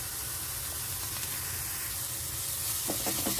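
Turmeric, salt and Kashmiri chilli sizzle in hot oil with a steady, close hiss throughout and a few brief scraping clicks near the end.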